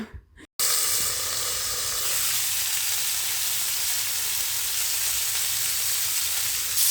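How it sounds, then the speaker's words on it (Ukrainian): After a brief quiet moment, chicken fillet sizzles loudly and steadily on a hot grill pan, a constant crackling hiss that carries on without a break. "М'ясо, точніше, жарити, смажити це куряче філе, буду смажити на грилі"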